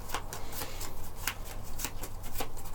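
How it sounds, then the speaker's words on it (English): A deck of game cards is shuffled during a tabletop game of Deep Blue, giving a string of quick riffling, papery flutters with sharp bursts in a steady rhythm, close and clear, with no talking. "So I'll take my discards, give them a shuffle,"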